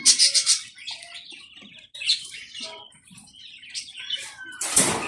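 Several quail chirp and call in short bursts, bright and fairly close, with a louder burst near the end and no talking.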